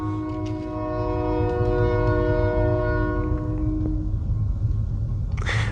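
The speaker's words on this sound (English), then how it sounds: "I'm near a train track." A train rolls past near the track, its steady horn sounding for several seconds over a loud rumble of wheels and cars, with no voices.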